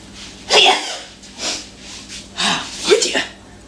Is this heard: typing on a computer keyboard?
no